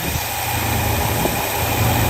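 A 1967 Lincoln engine idles quietly and evenly, a steady low rumble with a faint mechanical hum that holds at the same level from start to finish.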